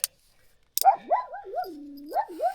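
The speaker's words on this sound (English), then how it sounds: "that's the dog." A farm dog near a tent at a night campsite gives drawn-out, wavering whines and yowls rather than sharp barks, following two brief clicks. The sound is close, fairly clear and alone, with no talk.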